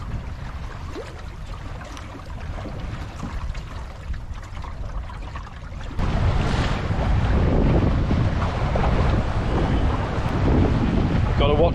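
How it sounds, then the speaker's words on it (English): Strong wind buffets the microphone in continuous rushing gusts, growing louder halfway through, with water sloshing underneath a small sailing dinghy. "Gotta watch these gusts."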